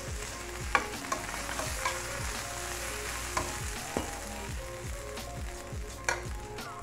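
A burger bun roasting in a pan alongside a chicken patty with oil, a steady close sizzle punctuated by scraping stirs and sharp clinks of a utensil against the pan.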